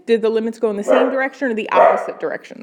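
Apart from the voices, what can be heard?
dog barking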